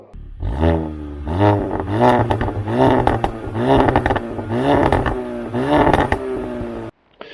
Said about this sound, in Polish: dołożyłem mu popsy, fajnie strzela